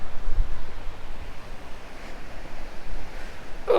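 Surf and gusting wind on Monifeith Beach on a cold, wet, deserted day, a steady broadband wash of waves with buffeting wind rumble on the microphone, continuous and fairly close throughout.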